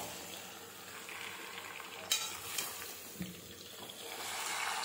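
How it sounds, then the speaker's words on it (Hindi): Chicken in a black pepper masala gravy sizzles in a pan as a spoon stirs it, with a constant frying hiss broken by a few sharp scrapes and clinks close by. "अब हम इसे मिक्स कर लेंगे गाइस।"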